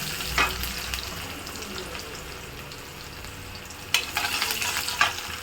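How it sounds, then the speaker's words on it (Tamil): Onions sizzle and fry in hot oil for sambar with brinjal and raw mango, a steady close crackle with a few louder spits of stirring, no voices. "வெங்காயம் நல்லா சவக்க விடுங்க."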